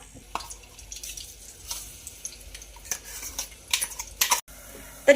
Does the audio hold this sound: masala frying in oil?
yes